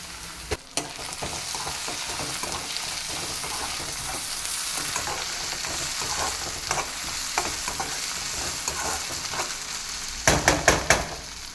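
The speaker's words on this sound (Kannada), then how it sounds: "ಜಿಂಜರ್ ಗಾರ್ಲಿಕ್ ಪೇಸ್ಟು ಹಸಿ ವಾಸನೆ ಸ್ಮೆಲ್ಲೆಲ್ಲ ಹೋಗೋ ತನಕ ಚೆನ್ನಾಗಿ ಹುರ್ಕೋಬೇಕು." Ginger garlic paste frying in a pan, with steady sizzling and repeated scraping stirs through the clip and a few sharper clatters near the end.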